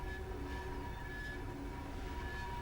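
An aggregate freight train rumbles past on the Turnchapel and Cattewater Railway with a steady low roar and sustained tonal whine of wheels on rails, constant and fairly close.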